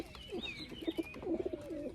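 Nearby pigeons give soft, throaty coos in short pulses, with a thin chirp or two above them, in a quiet setting.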